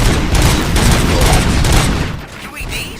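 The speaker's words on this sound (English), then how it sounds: "Gunshots?" Gunfire in RoboCop: Rogue City comes as a dense burst of rapid shots with booming impacts. It is loud and close at first, then thins and fades toward the end.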